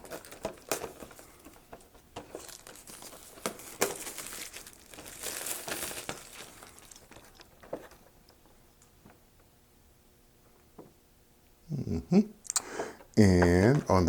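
Hard plastic packaging of a Zwilling Pro carving set crinkles and crackles as it is handled up close, irregular rustling and clicks throughout, with a louder burst of handling near the end.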